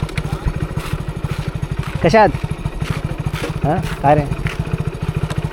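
A motorcycle engine idles and putters steadily nearby during a village ride in coastal Konkan, with a rapid low pulsing throughout as people talk over it.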